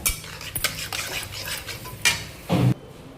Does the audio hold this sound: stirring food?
yes